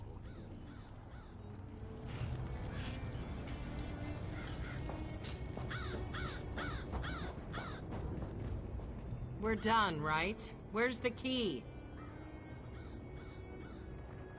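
A crow caws in The Elder Scrolls Online: Clockwork City, several harsh calls near the end over game ambience, with people talking throughout.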